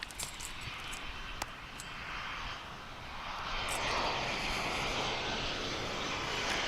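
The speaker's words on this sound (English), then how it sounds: "Here's American Flight 2342 coming in from San Antonio, Texas. 737-800, traversing your screen on camera 3" American Airlines Boeing 737-800 jet landing at DFW International Airport, a broad, rising engine roar and rush growing steadily louder as it passes, with no talk.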